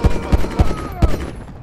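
Four sharp, loud gunshots ring out in an uneven burst during a GTA 5 mission shootout, each a heavy close crack with a short tail, with no talking over them.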